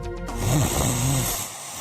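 A person snoring in a mattress advert, one loud, close, rumbling inhaled snore with a rough nasal rattle that fades at the end.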